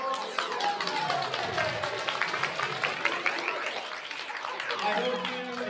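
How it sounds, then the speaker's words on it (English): An audience applauding at the close of an auction during an afternoon conference session, a steady wash of many hands clapping at moderate distance with voices and cheers mixed through it. "Give yourselves a round of applause."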